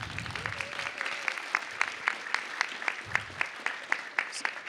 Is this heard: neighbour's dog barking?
no